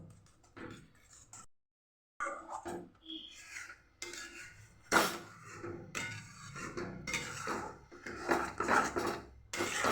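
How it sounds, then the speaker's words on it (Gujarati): A utensil scrapes and taps against a pan while thick gram-flour batter for Gujarati khandvi is stirred. The irregular close knocks and scrapes come in bursts with a brief silent gap, and no one speaks. "આવી રીતે સાઈડ ઉપરથી લેતા લેતા પણ આપણે આવી રીતે મિક્સ કરતું રહેવાનું અને હલાવતું રહેવાનું"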